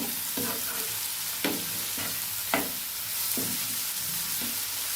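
Chopped tomato and onion being mixed in a frying pan, with a steady low sizzle of oil under several distinct stirring scrapes of a utensil against the pan, close and moderately loud, no voices.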